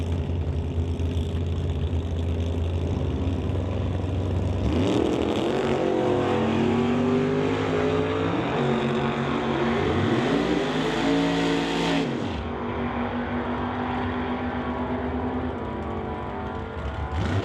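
Drag racing cars, including a Chevelle, launch and accelerate down the strip, a loud, continuous engine roar that climbs in pitch through gear changes before fading, with no talking.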